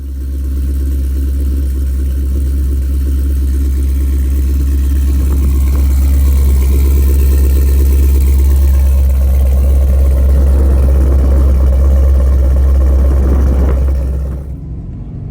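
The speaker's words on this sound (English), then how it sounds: "Let's turn this thing on. Let's get a cold start." A Cadillac V-series car with a roughly 750 hp build fires up from cold and settles into a loud, steady, deep idle that rumbles continuously before cutting off near the end.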